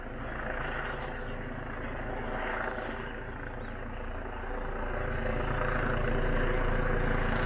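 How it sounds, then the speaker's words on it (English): A police helicopter drones steadily overhead, its low engine rumble and rotor noise swelling slightly louder toward the end as it speeds up, with no voices. "that helicopter's like moving at speed now"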